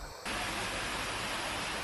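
Floodwater from heavy rain in Hong Kong pours down a hospital staircase like a waterfall, a dense, constant rushing roar that begins abruptly after a brief quieter moment.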